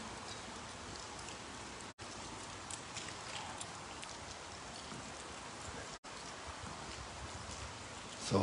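Steady rain falls during a late winter rainy spell, a dense, even hiss of drops on surfaces that continues unbroken and moderately quiet, with no voices.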